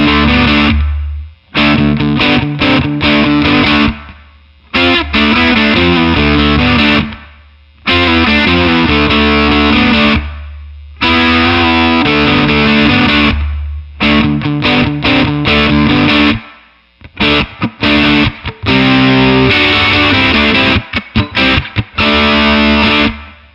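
An electric guitar runs through a Mesa Boogie California Tweed amp with the bass turned up, giving a thick fuzzy overdriven tone. Loud chopped riffs and chords start and stop repeatedly, with short silences between phrases.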